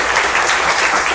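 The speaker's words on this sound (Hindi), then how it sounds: "एक जोरदार ताली होनी चाहिए।" Dense, sustained applause from a quiz-show studio audience of schoolchildren, loud and steady throughout with no gaps.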